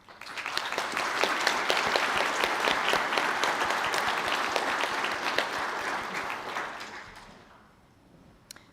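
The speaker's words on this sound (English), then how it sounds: "Can I ask the graduates of the Bachelor of Arts and Heritage Studies to please stand to receive your applause." Graduates of a Bachelor of Arts in Heritage Studies receive a full room's applause at a graduation ceremony in a Galway hotel: dense, steady clapping from a crowd lasting about seven seconds before fading out.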